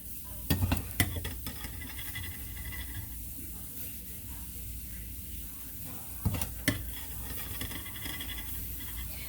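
Okra dipped in milk and egg frying in a pan, giving a steady soft sizzle and hiss with a few sharp clatters of stirring near the start and again later. No one speaks.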